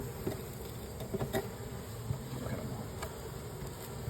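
A dense swarm of honeybees buzzes in flight during a hive inspection, a continuous low droning hum close by with occasional louder passes.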